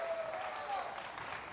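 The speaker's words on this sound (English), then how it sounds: "Give her a hand of applause." Faint, continuous applause from a room audience at a recovery movement gathering welcoming a guest who has just walked in, with a soft whoop-like tone and low chatter underneath.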